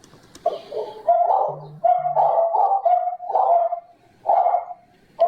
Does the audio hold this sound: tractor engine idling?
no